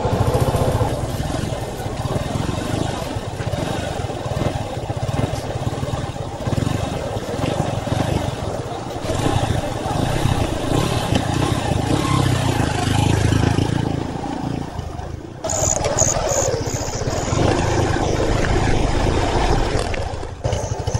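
A motorcycle engine runs steadily and loudly at close range for the whole stretch, with a brief change in tone near the end; no speech is heard over it.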